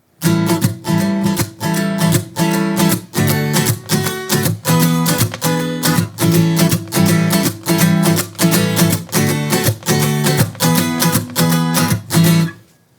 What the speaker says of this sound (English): a swing feel is great if you're ever playing a blues